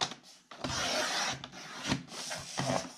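Paper cutter blade drawn across a sheet of cardstock, giving close, quiet scraping rasps in several short strokes with brief pauses between them.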